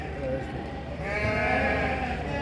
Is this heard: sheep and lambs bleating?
yes